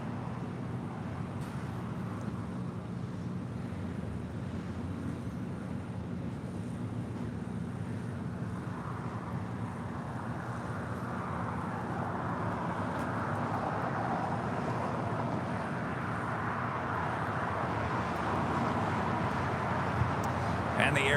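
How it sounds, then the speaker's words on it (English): An Air New Zealand Boeing 777-300ER in All Blacks livery comes in to land on runway 25 left at LAX. A distant jet roar slowly swells louder toward the end under continuous talk. "the Air New Zealand and the All Blacks livery, 777-300ER, about to touch down here on 25 left"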